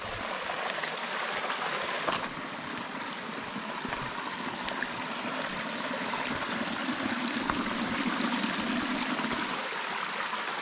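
A mountain stream in a wild valley of the Choč Mountains rushes steadily and loudly as someone wades through the middle of its bed, a continuous close wash of flowing water with no talk.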